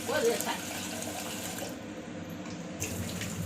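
Water runs from a tap into a bowl, a steady splashing flow that shifts in tone as it fills, with faint voices underneath.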